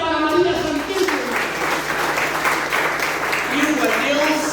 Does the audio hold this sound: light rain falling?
no